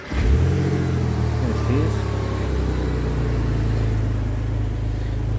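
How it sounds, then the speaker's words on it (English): A 2000 Porsche Boxster S with 153,000 miles fires up and settles into a steady, close engine idle with a brief rev, while someone speaks over it. "start her up, hey? Let's hear her breathe."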